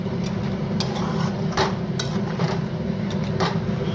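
A spoon stirs potatoes into spiced chicken curry in a pan, giving a close sizzling bed with sharp clinks of metal against the pan at an irregular pace, and no one speaking.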